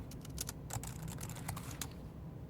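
Typing on a portable folding Bluetooth keyboard produces a quick, irregular run of light plastic key clicks, close and fairly quiet, with no talking.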